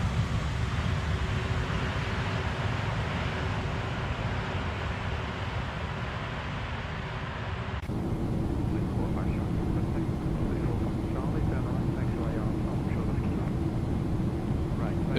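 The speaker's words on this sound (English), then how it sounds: "Those engine sounds are just amazing." Boeing 777-200ER jet engines in the X-Plane 12 flight simulator at cruise altitude, a steady loud broadband roar with a low hum that keeps going, the tone shifting slightly partway through.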